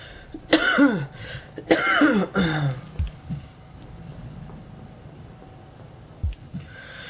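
Three harsh, close allergy coughs come in quick succession near the start, followed by quieter background noise and a couple of soft thumps.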